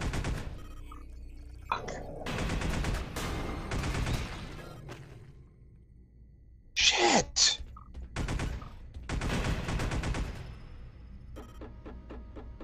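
Rapid bursts of automatic weapon fire in the video game Space Beast Terror Fright, several clustered volleys separated by short pauses, with sharper creature or effect sounds between them.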